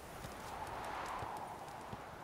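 Roach, Geralt's horse in The Witcher 3, clip-clopping with steady hoofbeats at a walking pace, close and moderately loud over a soft background wash, with no talk.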